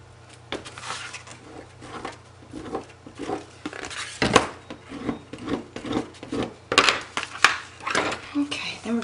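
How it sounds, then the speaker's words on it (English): Folded paper edge on a mini scrapbook cover being burnished: repeated close, dry rubbing and scraping strokes in an uneven rhythm, with occasional soft taps. "Burnish that down a little."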